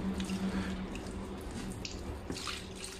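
Water poured over a freshly pruned camellia in a pot standing on a tray, a soft steady wash of splashing and dripping with a faint low hum underneath.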